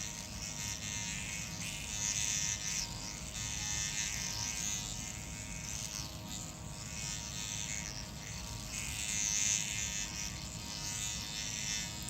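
Steady electric buzz from an MTS microneedling pen held close, a continuous insect-like whine with slight pulsing in intensity over several seconds, no talking.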